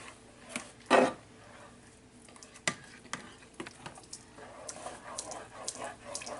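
Beef stroganoff cooking down in a pan, a soft sizzle under irregular utensil knocks and stirring scrapes, with one louder clatter near the start, close by.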